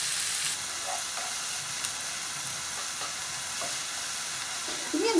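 Onions for mushroom soup sizzle steadily in a pan, a continuous bright hiss of frying with small crackles and a faint scrape near the end, fairly close and with no talking.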